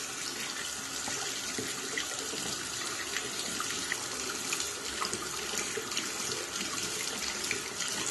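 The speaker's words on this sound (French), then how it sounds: "n'oubliez pas de rincer abondamment vos pinceaux sous le jet d'un robinet" A water tap runs steadily for rinsing paintbrushes, a constant close hiss of flowing water into a sink with no voices.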